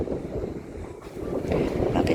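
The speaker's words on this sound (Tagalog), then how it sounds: "Oh, mahangin." Wind gusts at a seaside ferry landing while people wait for the boat. There is a steady, moderately loud rush of air buffeting the microphone, strengthening toward the end, with a faint wash of water underneath and no voices.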